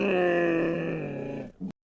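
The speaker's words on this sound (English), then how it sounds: "Camel, camel." A camel gives one long, low, rumbling groan, loud and close, fading toward the end before a short final grunt, with no other sounds.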